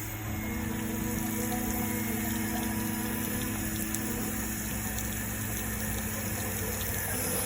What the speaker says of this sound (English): You'll notice it's forcing the water out.